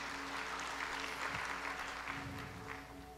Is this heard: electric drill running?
no